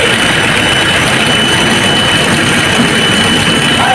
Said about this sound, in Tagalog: Ganda ng andar ni Innova